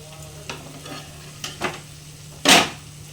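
Pointed gourd (potol) hits hot oil in a pan, giving a few soft stirring scrapes before a sharp burst of sizzle near the end, close and fairly loud, with no talking.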